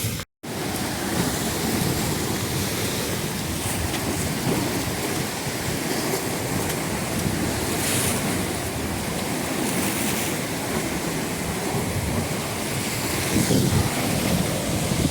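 Sea waves surge in toward a rocky shore near the Blue Grotto in Malta, with a steady broadband wash and roar and wind buffeting the microphone. The sound stays close and loud throughout, with no voices.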